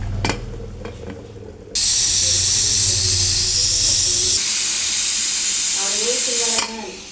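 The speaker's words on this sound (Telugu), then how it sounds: "ఇప్పుడు విజిల్ పెట్టుకున్నాం, ఒక 5-6 విజిల్స్" A kitchen pressure cooker whistle blasts steam with a loud, sustained high hiss for several seconds, cutting in abruptly after some clattering and stopping sharply, close to the microphone.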